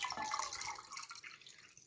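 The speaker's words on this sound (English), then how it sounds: "And I take the old whey and just pour it" Old whey from a goat cheese chevre culture poured into cold milk, a soft trickling liquid pour that fades out over a couple of seconds.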